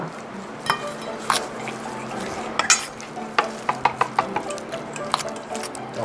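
Steady scraping and clacking of a utensil stirring a thick chicken nugget mixture with added beef in a bowl, with irregular taps against the side and a low background hum.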